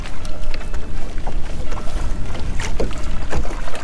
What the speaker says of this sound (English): Is it a trolling motor on?